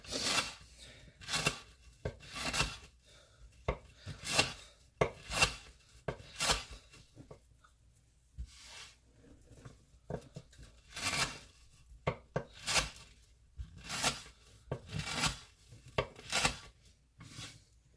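A Zero Tolerance 0350 knife chops and scrapes into a wooden board in a rapid run of sharp, close strikes. The rhythm is irregular, with brief pauses between clusters of cuts and no voice.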